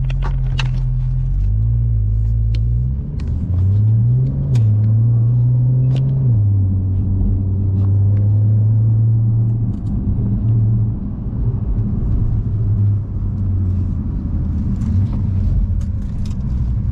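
A Porsche 992 Carrera S with valve exhaust rumbles up close, its engine note rising and falling through a few revs before settling into a steady low drone.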